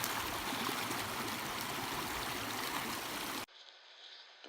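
Steady broadband rush of Helotes Creek flowing over rocks, a continuous close stream sound that cuts off abruptly near the end, leaving only a faint hiss.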